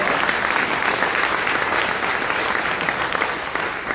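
An audience at the opening of a county career technical campus applauds loudly and steadily, a dense wash of many hands clapping close by that holds for the whole stretch.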